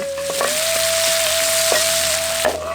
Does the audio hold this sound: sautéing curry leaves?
yes